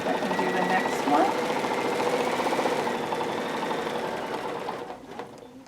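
A sewing machine stitches fabric with a steady, fast mechanical whir and clatter close by, running continuously before slowing and stopping at the end.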